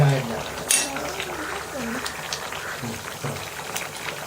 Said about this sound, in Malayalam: കറി നന്നായിട്ട് തിളച്ചു തുടങ്ങി